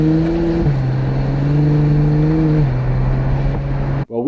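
Heard from inside the car, a new Acura NSX's engine hums steadily and pulls up through the revs, its tone rising in smooth steps, before a sudden rustle at the end.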